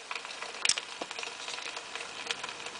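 Soft, steady sizzling hiss with faint crackles from leftover heat in a pressure cooker, quiet and close, with a brief sharper pop near the start.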